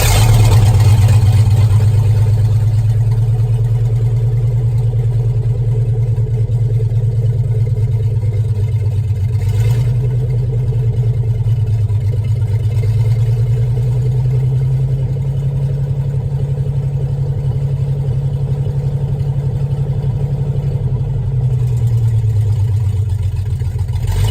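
A Chevy LUV drag truck engine idles steadily at close range, a loud, even low rumble that holds for the whole stretch with small shifts in pitch and no talking over it.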